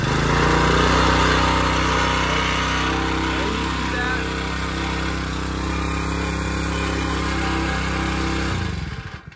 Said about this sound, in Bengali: এই মেশিনটা আমি আপনাদের স্টার্ট দিয়ে দেখাই,